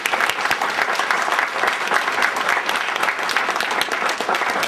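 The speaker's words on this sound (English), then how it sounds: "give our panelists a round of applause" A lecture-hall audience at a Portland State University speaker series applauds panelists after a discussion on race and the media, dense, steady clapping filling the room throughout with no talk.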